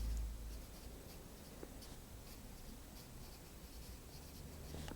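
Faint scratching of a pen or pencil writing by hand in a notebook, a quiet, soft, irregular stroking against a hushed room.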